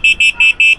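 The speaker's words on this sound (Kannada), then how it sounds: "ಹಾರ್ನ್," The horn of an EMotorad Doodle foldable electric cycle sounds five times in quick succession, each a short, shrill, even electronic beep, close and loud, with brief gaps between them.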